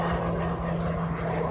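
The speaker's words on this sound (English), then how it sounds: "Let me just let this plane pass." An airplane passes overhead with a steady, loud engine drone and broad rumble that holds evenly for a second and a half, with no voices over it.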